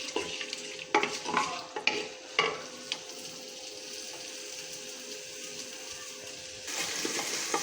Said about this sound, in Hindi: तो अब मैं इसमें प्याज डालूंगी, हल्का सा इसको फ्राई करूंगी।